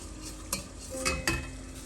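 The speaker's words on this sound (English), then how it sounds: "I'm using a double boiler, aka the fancy chef term for one pot inside another." Chocolate melting in a double boiler, one pot set over another of boiling water, gives a soft continuous stirring and scraping with two brief clinks of utensil against pot, close and moderately quiet, with no voices.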